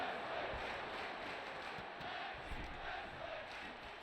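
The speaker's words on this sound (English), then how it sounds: "Crowd loving this match." A wrestling crowd at a FEW Showdown match makes a steady, distant roar of cheering and shouting that holds through the whole stretch with no break.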